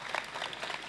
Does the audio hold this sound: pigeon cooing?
no